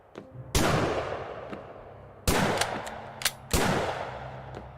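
Cultists fire Tommy guns in Lovecraft's Untold Stories. Three loud, close bursts of gunfire each crack sharply and then ring out, with short pauses between them.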